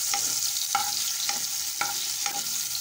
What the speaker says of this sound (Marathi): आता मी कांदा घालत आहे, बारीक चिरून घेतलेला। कांदा परतून घ्यायचा आहे